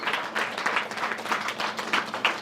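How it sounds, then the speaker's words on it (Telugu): A church congregation at a Sunday sermon claps together in a dense, rhythmic patter of applause that stays moderately loud throughout, with no speech over it. "give claps and glorify Jesus"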